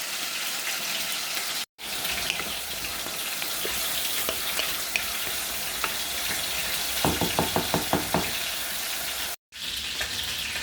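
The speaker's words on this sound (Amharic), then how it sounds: "እዚህ ጋር ዘይቴ ሲግልልኝ የተፈጨ ሽንኩርት አለኝ አደርጋለሁ ማለት ነው።" Ground onion frying in hot oil for Ethiopian chicken stew, a steady, close sizzle broken by two short cuts, with a rapid series of clinking taps partway through and no one speaking.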